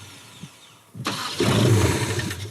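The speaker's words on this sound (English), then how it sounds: "For some reason that sounds like it's only firing while it's being cranked, and when you let off the key, it's shutting off." A Chevrolet Blazer engine cranking with the starter whirring, then catching and firing roughly for a moment with a loud, close rumble.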